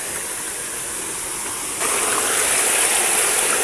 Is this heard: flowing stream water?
yes